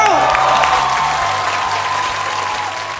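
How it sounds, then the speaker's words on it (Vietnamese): A studio audience at a televised singing show bursts into loud applause that starts full and strong, then slowly fades across a few seconds. "hãy dành một tràng vỗ tay nữa"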